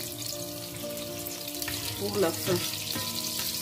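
Onions fry in oil for Cameroonian poulet DG with a steady, moderate sizzle, joined by a few clinks and scrapes of a utensil, and a voice speaks briefly at the end.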